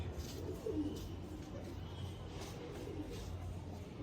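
Pigeons coo softly in a low, steady murmur, with repeated coos throughout and faint background noise while a person speaks intermittently nearby.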